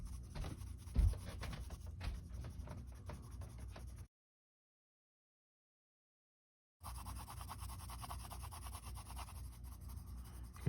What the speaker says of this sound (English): if you want to color smoothly, you can angle your colored pencil so it's a little more flat